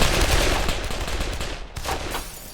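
Gunfire in the video game Arma 3, Altis Life mode: a dense, loud burst of automatic shots fills the whole moment, briefly dipping and then returning with a second volley, with no talk over it.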